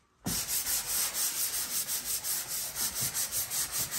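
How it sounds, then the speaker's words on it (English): Hand sanding on a wooden DIY buffet sideboard, a rhythmic back-and-forth rasp repeating about every quarter second, close and steady with no talk. "Sand that right there, bro."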